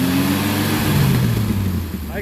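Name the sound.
Dauphine car engine running, revving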